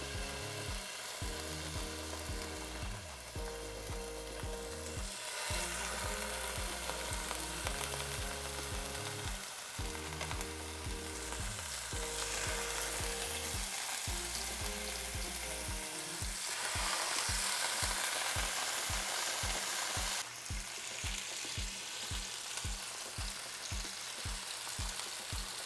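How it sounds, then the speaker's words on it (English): A trout fillet sears skin side down in a hot pan, giving a continuous bright sizzle and crackle, with a rhythmic low mechanical thumping running underneath throughout. "I'm going to add skin side down, and you want to hear that sizzle."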